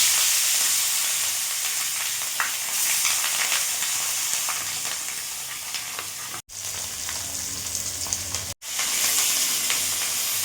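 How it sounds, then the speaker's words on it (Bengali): Bata fish frying in hot mustard oil, a dense, bright continuous sizzle close to the pan with occasional crackles, broken by two brief cuts to silence, no talk. "সর্ষের তেল দিয়ে দেবো তেল গরম হয়ে গেছে এবার এক একটা করে মাছ আমি দিয়ে দেবো"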